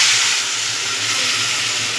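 Loud, steady hissing sizzle of water poured into a hot pan holding coconut paneer masala, with steam rushing up continuously.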